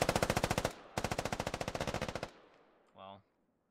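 Machine gun suppressing fire in a video game, two rapid bursts of evenly spaced, loud automatic shots separated by a brief gap, trailing off into echo, followed by a short low electronic tone.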